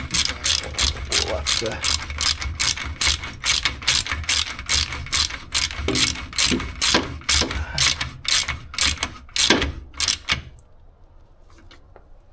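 A ratchet wrench tightens bolts on a rusty engine during a strip-down, a rapid close clicking run of pawl ticks for about ten seconds before stopping; a brief word is spoken.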